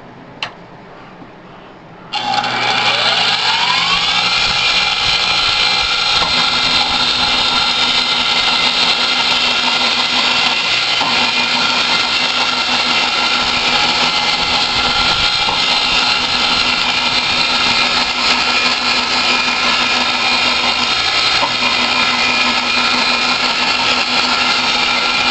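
A fan on a milling machine blowing coolant starts up after a quiet moment and then runs loud and steady, a dense whooshing roar with a faint mechanical hum underneath.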